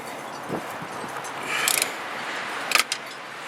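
A ratchet and socket adapter on a 2001 Buick LeSabre, cracking front hub bracket bolts loose until the adapter snaps, giving a few sharp metallic clicks and cracks over quiet garage background.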